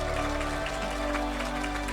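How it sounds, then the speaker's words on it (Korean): Dense, steady applause from an audience at a 2021 graduation ceremony, loud and continuous throughout with no pauses, a faint tonal hum sitting underneath the clapping. "네, 크게 박수 쳐주시고요."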